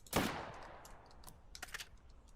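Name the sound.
gunfire in the video game Western Rye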